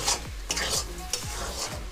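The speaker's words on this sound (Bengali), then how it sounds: "এক মিনিট মতো মশলার সাথে তরকার ডালটাকে খুব ভালো করে এখানে আমি কষে নিয়েছি" Tarka lentils are stirred and sautéed with spices in a hot pan for egg tarka, with steady sizzling under repeated scraping stirs at a roughly even rhythm, close and fairly loud, with no voices.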